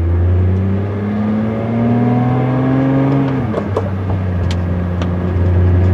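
Pagani Utopia engine running inside the cabin, a loud steady drone that rises in pitch and then drops sharply at a gear shift, followed by a few light mechanical clicks, no talk.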